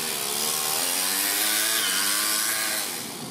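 A 4-stroke overhead cam engine in an RC car with a two-speed setup revs hard and steadily, a loud buzzing whine rising in pitch and holding before easing off slightly at the end, close by with no talk.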